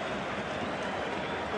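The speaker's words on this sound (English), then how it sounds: "Crowd appreciated the showboating though from Neymar." Stadium crowd at a football match applauding and cheering Neymar's showboating, a steady dense wash of clapping and roar filling the space without pause, with commentary-like voices faint in the mix.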